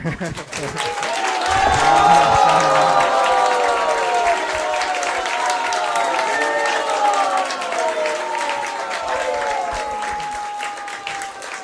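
A large crowd at a devotional gathering cheers and applauds loudly, sustained clapping mixed with rising and falling shouts and whoops that swell early and carry on for over ten seconds.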